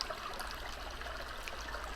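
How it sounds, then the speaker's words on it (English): A running stream flows continuously, a soft steady trickle and babble of water heard close and even, with no voices over it. "on the sound of the running water."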